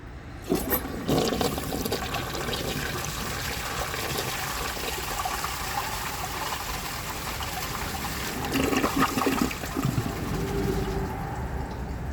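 A 1981 Eljer Murray toilet flushes during a performance test, a steady rushing swirl of water lasting throughout with a brief surge near the end as the bowl drains and refills.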